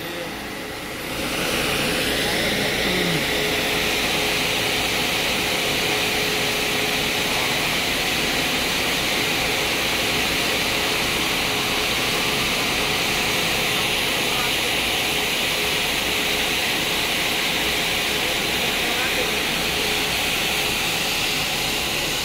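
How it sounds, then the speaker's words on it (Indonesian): A Volvo double-decker bus's air conditioning roars in a broad, steady rush that switches on after about a second and holds loud and unbroken, with no voices present. "Ngeri suara AC-nya ya."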